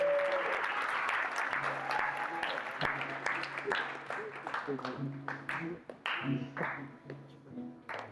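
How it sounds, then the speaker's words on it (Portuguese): Audience applause for the actors after a church drama performance, steady and full for most of the clip with scattered louder claps, fading near the end while a sustained tone and faint voices sit underneath. "Uma salva de palmas para os nossos atores."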